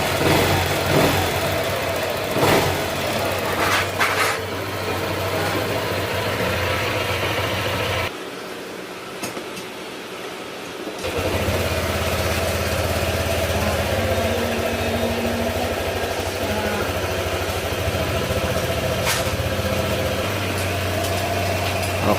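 A Honda Click 125 scooter upgraded to a 150cc engine revs up and down at close range, a steady mid-pitched drone with throttle swells and a brief drop to a quiet idle partway through.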